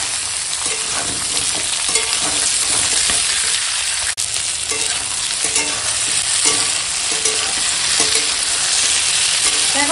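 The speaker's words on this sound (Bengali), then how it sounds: "এখন এই ফোড়নের সঙ্গে" Chopped radish, potato, pumpkin, carrot, eggplant and long beans fry with tempering spices for a vegetarian ghonto, giving a loud, dense, unbroken sizzle close by, with light stirring clicks and no speech.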